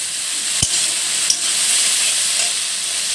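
Salt is stirred into taro stems and dried fish frying in a pan, a continuous hiss and sizzle broken by two sharp spatula knocks against the pan, no one talking.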